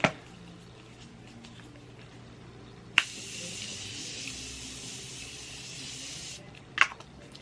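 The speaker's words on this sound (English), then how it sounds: "I'm gonna use the Morphe Mini Continuous Setting Spray all" Morphe Mini Continuous Setting Spray mists onto a face in one steady, close hiss lasting about three seconds, with a faint click before and after.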